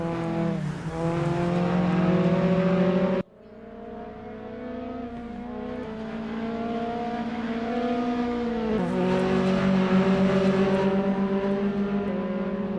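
Mazda MX-5 race cars race at the Zandvoort circuit, with engines revving hard and shifting through gears, a sharp cut in the sound partway through, then sustained close, loud engine note.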